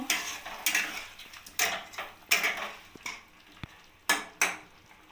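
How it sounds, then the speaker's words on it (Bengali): A spatula stirs salted cauliflower in a pan, making repeated close scraping and clinking strokes against the metal in an uneven rhythm over a light background sizzle. "নুনটা ভালো করে ফুলকপির সাথে মিক্সড করে নেব"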